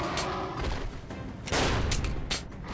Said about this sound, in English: How many shotgun shells have I pumped into you?